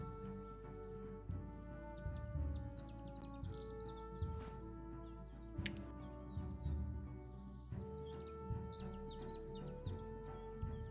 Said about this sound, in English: I just like clicking on the birds and getting the little bird sounds.